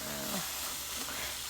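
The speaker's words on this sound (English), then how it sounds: "Just let it simmer there for about 5-6 minutes." Smoked sausage and broccoli seasoned with paprika and pepper simmering in a pan, giving a steady close sizzle and hiss throughout.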